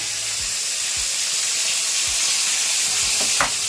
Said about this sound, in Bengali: রান্নাঘরে শাক ভাজা হয়ে গেছে।